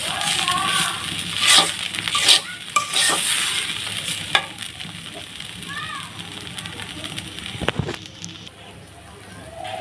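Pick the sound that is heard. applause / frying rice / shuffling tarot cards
frying rice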